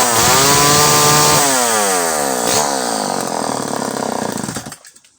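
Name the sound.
Pioneer 1200 vintage 58cc chainsaw running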